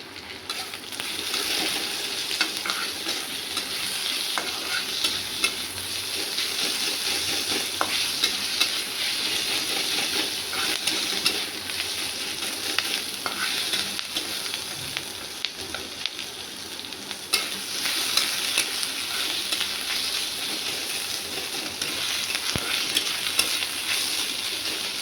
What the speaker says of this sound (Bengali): পেঁয়াজ ভাজা হয়ে গেছে, এবার আদা দেবো।